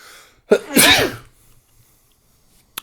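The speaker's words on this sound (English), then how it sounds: "I'm going to sneeze in a minute, one sec." A single loud, close human sneeze in a quiet room, a sharp intake followed by a forceful burst, then silence.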